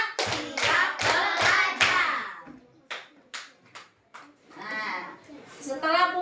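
A class of children claps a call-and-response rhythm in short bursts of several sharp claps each, alternating with their chanted replies and a teacher's voice, close and lively.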